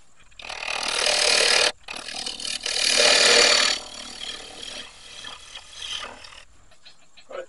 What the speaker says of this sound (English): Sand that down, I'll get back to you.